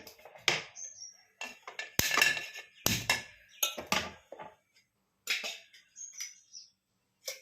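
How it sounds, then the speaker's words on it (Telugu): Several close, sharp metallic clanks and knocks in irregular succession as a kadai pan is set and shifted on a kitchen stove, with brief quiet gaps between the hits. "ఇప్పుడు ఈ కలుపుకునే లోపు స్టవ్ మీద బాండీ పెట్టుకొని ఆయిల్ పోసుకుందాం"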